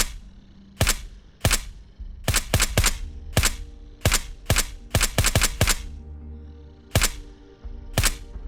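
Gunfire in the video game SurrounDead, a dozen or so sharp, loud single shots fired in irregular bursts, some in quick succession, over a quiet background with no talking.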